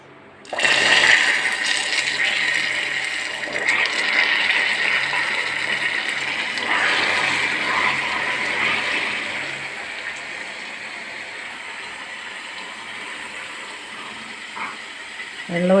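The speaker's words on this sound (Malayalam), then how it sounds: "ഞാൻ ഇതിനകത്തേക്ക് 2 സ്പൂൺ വെള്ളം ഒഴിച്ചു കൊടുക്കുന്നുണ്ട് കേട്ടോ." Two spoonfuls of water hit a hot nonstick pan while making carrot cake, setting off a loud burst of sizzling steam that fades slowly to a steady hiss over about fifteen seconds.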